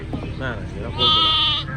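Pregnant sheep and newborn lambs bleat inside a truck: several close wavering bleats, one louder and higher cry in the middle, with someone talking over them.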